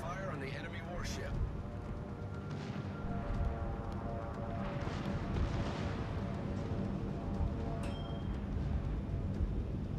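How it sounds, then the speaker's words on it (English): Warship guns firing in a naval video game, a sustained low rumble of booming shots with a few sharper blasts, heard under a voice talking over the battle. "Concentrate fire on the enemy warship."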